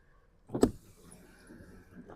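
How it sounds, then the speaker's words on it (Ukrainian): Power windows operate in a 2011 Nissan Qashqai 1.6. A short, sharp thump is followed by a faint, steady motor whir inside the quiet cabin. "склопідйомники всі справні"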